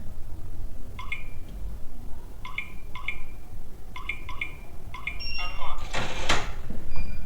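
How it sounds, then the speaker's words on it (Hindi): Electronic keypad beeps sound in short bursts as a code is entered on a hotel room door lock, followed by a chime and the clack of the door unlocking and opening. "दरवाज़ा खुल गया।"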